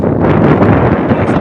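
Strong wind blasting across a microphone on a fishing boat at sea, a steady loud roar of gusts and rumble filling the whole clip with no pauses.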